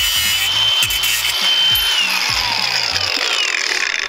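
A tool cuts through a thick metal fuel rail on a bus engine, giving a loud, close grinding rasp that runs continuously with choppy low-end pulses and no talking.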